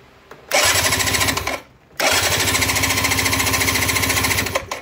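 An electric motor in an appliance under repair is turned over, giving a loud, buzzing mechanical rattle in two long bursts separated by a brief pause.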